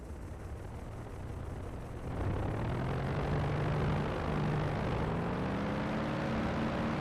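A WWII fighter plane's piston engine in the flight game IL-2 1946 builds for takeoff, a loud continuous propeller drone that swells after two seconds and climbs steadily in pitch as power increases.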